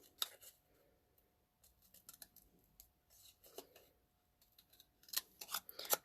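Scissors snip paper in short, crisp clusters of cuts while fussy cutting around a stamped design, quiet and close with gaps of near silence between bursts.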